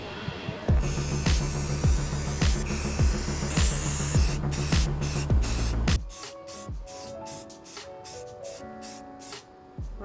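Khaki base coat is spray painted onto a rifle from an aerosol can in repeated close hissing bursts, each spray cut off sharply, with faint clicks between them.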